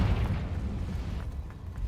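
A Confringo blast spell exploding in the Hogwarts Legacy video game, a heavy low boom that rumbles and fades over a couple of seconds, heard alone.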